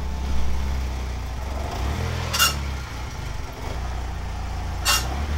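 A BMW E30 on air suspension rumbles at low idle and creeps out of a driveway, with two short hissing bursts from the air system.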